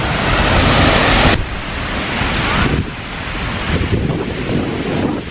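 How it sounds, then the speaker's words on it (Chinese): A waterfall in Iceland in July, seen from inside a mountain cave, roars continuously and loudly, a broad rushing wash with wind noise on the microphone and shifts in level as the recording moves. "呢個瀑布咧"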